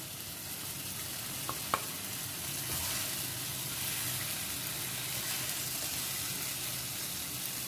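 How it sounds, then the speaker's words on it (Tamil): Tomatoes softening in a hot pan for a broccoli gravy, giving a steady, even sizzle and hiss throughout, with a couple of brief clinks of a utensil against the pan near the start and no voices. "இந்த தக்காளியையும் நம்ம நல்லா வதக்கி தக்காளி நல்லா கரையிற அளவுக்கு நம்ம இதை வதக்கிக்கலாம்"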